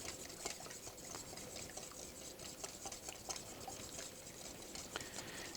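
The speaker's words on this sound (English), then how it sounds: "So as I pour the oil in, you go ahead and whisk that very vigorously." A whisk beats oil vigorously into a vinaigrette dressing in a bowl, giving a steady, fast, close patter of wet scraping and ticking strokes with no talk.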